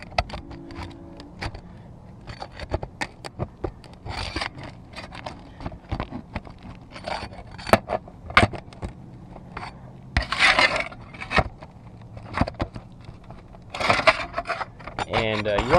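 Loosened shingles scrape and rasp as a roof ridge vent is worked free and pried up, a run of irregular clicks, scratches and knocks up close, with some talking mixed in.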